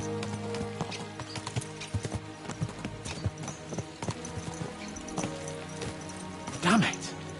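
Galloping horses on horseback in the video game Kingdom Come Deliverance 2, hooves clip-clopping in a brisk, uneven rhythm with a loud snort or whinny near the end.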